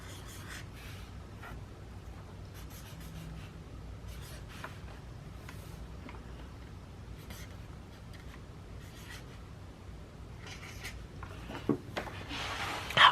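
Pen strokes scratching and rubbing across paper in a B6 planner notebook, quiet and close, in short irregular bursts with brief pauses and a slightly louder rustle near the end; no talking.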